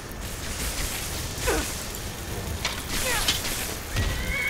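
Horse in the video game Skyrim, giving several neighs and whinnies with snorts over a continuous game soundscape and brief whooshes, fairly close and loud.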